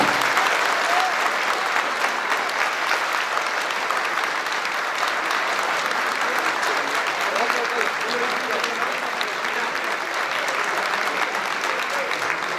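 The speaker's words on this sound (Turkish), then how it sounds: "Bir alkış rica ediyoruz" An audience applauds candidates at an event with long, continuous clapping from a crowd, steady in intensity, with voices faintly mixed in beneath.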